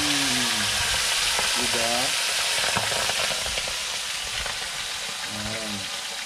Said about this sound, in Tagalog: So kukunin natin to at ipiprito.